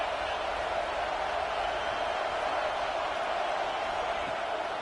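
A stadium crowd at a college football game against Texas Tech gives off a steady, distant roar of cheering. The even wash of noise holds throughout without clear peaks.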